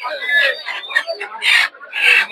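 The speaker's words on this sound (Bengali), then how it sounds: "আর এদিকে দেখতে পাচ্ছেন বড় সাইজের টাইগার মুরগি।" Large tiger-breed chickens cluck and call in short bursts at a rural poultry and bird market, close and fairly loud, with no talk.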